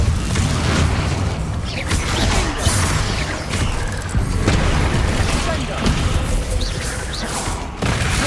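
Depulso spells are cast in Hogwarts Legacy: several loud booming blasts and crashing bursts come at irregular intervals over a busy background, with a voice speaking between them.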